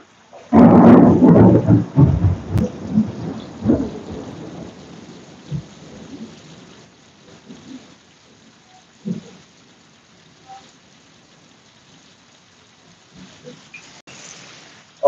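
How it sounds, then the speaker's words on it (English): Thunderstorm with heavy rain in Florida: a loud, close thunder crash opens, rumbling for several seconds, then steady rainfall continues under fainter distant rumbles, with no one talking. "Always motherfucking raining out here in Florida."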